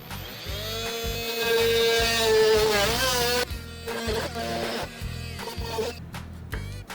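An oscillating multi-cutter fitted with a narrow wood blade cuts a small hole in wood, giving a loud, close, buzzing whine that wavers in pitch as it bites, then runs on in choppy bursts with no talk.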